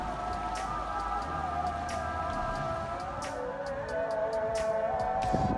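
Steady rain falls on a rainy day by the sea at Alanya during a fishing trip, with scattered drops ticking on surfaces over a constant hiss and no talk.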